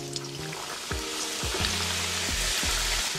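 Samosas deep-frying in hot oil give a steady, loud, close sizzle that runs the whole time, with a low tonal hum and shifting pitched notes underneath.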